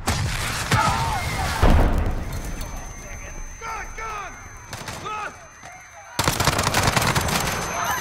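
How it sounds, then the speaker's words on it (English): Gunfire and a heavy explosion erupt in a Call of Duty: Modern Warfare battle scene in Piccadilly after a van rams into the crowd, loud bursts of shots under a speaking voice, with a final sustained roar of firing. "This causes a massive explosion."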